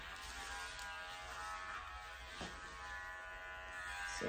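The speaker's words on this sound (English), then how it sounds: "All that will be on a 4-in-1 clipper" A 4-in-1 electric dog clipper buzzes steadily while trimming a Schnauzer, a close, continuous hum heard alone.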